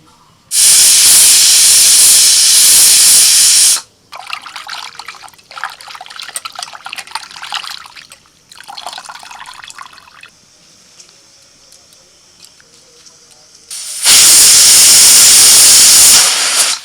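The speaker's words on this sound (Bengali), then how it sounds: "দুটো সিটি পড়ে গেছে, এবার নামিয়ে দিচ্ছি।" A pressure cooker on a kitchen stove lets out two loud, long steam whistles, one at the start and one near the end, with fainter hissing and sputtering steam between them.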